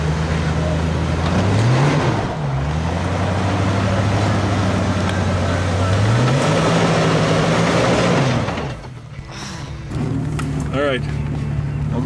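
A Jeep Wrangler engine revs and drones off-road as its tires lose traction, with rising and falling pitch sweeps and a steady loud rumble, briefly dipping before resuming; someone talks over it.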